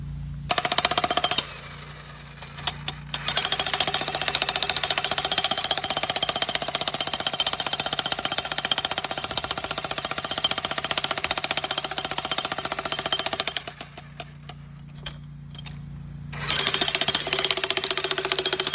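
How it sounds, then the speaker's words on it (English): A Bosch Brute Turbo 115/120v electric jackhammer pounds through old concrete and brick, hammering loud and close in long sustained bursts with brief pauses between them. "the use of this old Bosch Brute Turbo to help break it up"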